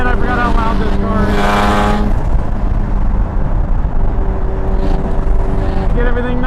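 A Mazda RX-7 race car on track gives a loud, steady engine drone that rises and holds through the clip, with rev changes along the way and a voice talking over it.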